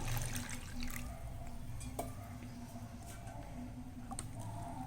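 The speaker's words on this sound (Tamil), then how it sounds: "இதுக்கு நல்லா தண்ணி விட்டுக்கலாம்" Water pouring steadily into a pot of pepper rasam, a continuous splashing trickle with a few soft clinks, fairly close and moderately quiet.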